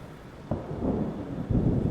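Rumbling storm thunder over rain in the Static Dread video game, set at an old lighthouse. Two low booms roll in one after another, each swelling and then fading, alone with no talk.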